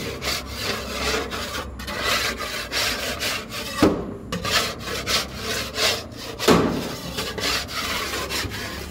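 Pigeon droppings are pushed and scraped off the flat, non-slatted floor of a pigeon loft, giving repeated close rasping scrapes in uneven strokes with a couple of sharper knocks, and no voices.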